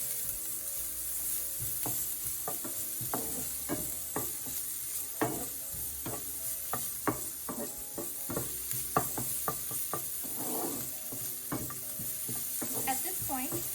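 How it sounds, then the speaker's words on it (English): Ginger, garlic and green chili sautéing in a pan, a constant close sizzle broken by repeated scraping and stirring strokes of a spatula at an uneven rhythm, with no voices. "Now we'll add the ginger, garlic, and green chili. And we'll saute for another minute or two."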